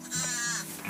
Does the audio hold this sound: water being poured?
no